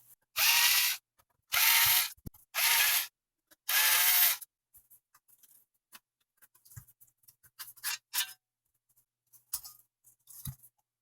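Screws being backed out of a Dell Optiplex 780 power supply casing with a power driver, four loud whirring bursts in a row, then scattered small clicks and taps from handling the parts.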